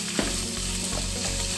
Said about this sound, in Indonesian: selanjutnya kita masukkan daging gilingnya. Kita aduk sampai berubah warna